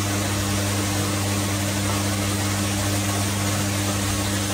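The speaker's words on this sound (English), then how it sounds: "Put the motor here. The turntable will turn." Micro pump motor feeding the rotating turntable of an automatic water pump assembly machine, producing a constant loud mechanical hum with steady tonal drone and broadband hiss, continuous and unchanging throughout, close up with no talk.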